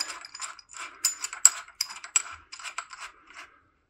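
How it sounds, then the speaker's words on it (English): A CYC Photon e-bike motor bracket is screwed clockwise into a bicycle bottom bracket, producing a close series of sharp metallic clicks and ticks in irregular bursts, with no voices. "if I finish screwing this in, this goes into the bottom bracket and tightens clockwise"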